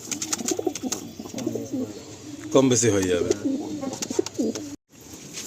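Pigeons at a street pigeon sale coo repeatedly in low rolling calls close by, mixed with people talking and market bustle, cut by a brief silent gap near the end.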